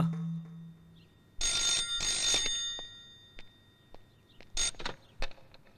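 A telephone rings in several bright, rattling bursts separated by short pauses, fairly close, with a brief low voice at the start.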